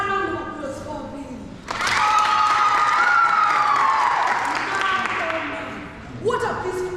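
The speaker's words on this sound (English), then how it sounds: "let's give ourselves a round of applause for Billy." An outdoor crowd at the St. Teresa's Cathedral grounds in Nairobi breaks into dense, loud applause after a voice finishes speaking, with a long high whistle or ululation riding above it, then the applause thins out near the end.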